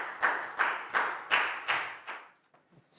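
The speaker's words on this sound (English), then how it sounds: "Big round of applause for Chew." Classroom applause for a pupil: six slow, rhythmic unison claps from a small group, each a sharp burst with a short decay, fading out, followed by faint sounds.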